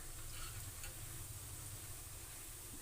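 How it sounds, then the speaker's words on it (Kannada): Pakoda fritters sizzle steadily in hot oil with a continuous crackling hiss, a few faint scraping stirs as the fritters are turned, no voices. "ಇನ್ನು ಬೇಯ್ತಾ ಇದೆ ಪಕೋಡ. ಇವಾಗ ತಿರುಗಿಸ್ತೀನಿ ನೋಡಿ"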